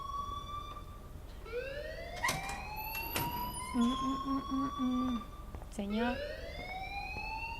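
An alarm in the video game Life is Strange wails in rising and falling siren-like sweeps at moderate volume, with a voice speaking briefly over it.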